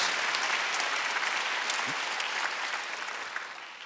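Congregation clapping during a Korean church Wednesday worship service, a steady roomful of applause that fades slightly toward the end.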